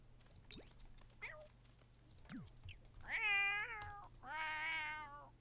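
A cat in a video game meows several times with short calls and then two longer, drawn-out wails, fairly clear over a quiet background hum.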